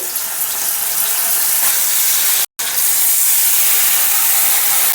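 Garlic and green chili paste hits hot oil in a pan with a loud, steady hiss that fills the clip, broken by one brief silent cut midway.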